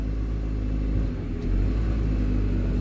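A Peugeot engine idles under the hood, a loud, steady low rumble close by, with a brief dip partway through. The car has an idle cutout fault and accelerator codes P0120 and P0121.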